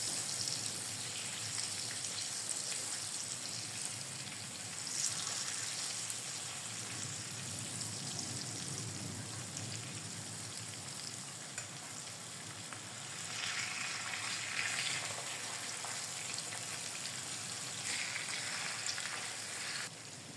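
Fish frying in oil over moderate heat gives a steady, even sizzle that runs throughout with small crackles and no talking.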